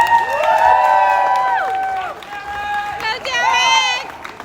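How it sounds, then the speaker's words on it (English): Friends at the back of a UC Berkeley Haas business school commencement ceremony cheering and shouting loudly, with excited yells and whoops in two bursts, close and prominent. "it's my friends in the back there cheering really loud"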